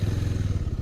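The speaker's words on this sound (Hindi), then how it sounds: "कर लेते हैं बाइक को स्टार्ट" A Bajaj Avenger 220 cruiser motorcycle engine starts and settles into a steady, throbbing low idle, close by, with no talking.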